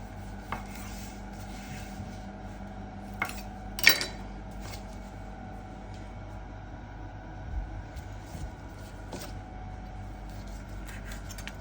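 Knife cutting through a smoked garlic sausage on a board, with soft rubbing strokes and a few sharper knocks of the blade, close by and otherwise quiet.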